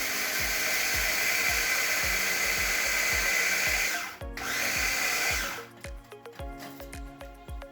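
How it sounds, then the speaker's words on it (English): A kitchen blender pulses and whirs loudly through a batch of chocolate sandwich cookies for a chocolate lasagna crust, with a steady motor roar, a brief dip, then choppier rattling bursts as the crumbs break down. "I'm going to blend them"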